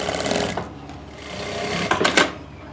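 A sewing machine stitches the fitting seam of a stylish summer top in a rapid, even mechanical chatter, close and loud, with a short pause before a final burst.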